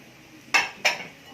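A spoon scrapes twice against a cooking pot while stirring parsley into hot onions, two sharp quick strokes close by and otherwise quiet.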